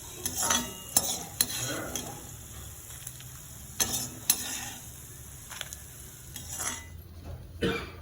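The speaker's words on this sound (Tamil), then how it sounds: "தனியா, சீரகம், மிளகு, பெருங்காயம், இது அனைத்தையும் ஒன்றா வறுத்து எடுத்துக்கலாம்." Coriander, cumin, black pepper and asafoetida dry-roast in a pan for sesame chutney. A quiet, soft crackle is broken by sharp spoon scrapes and clinks against the pan at irregular intervals.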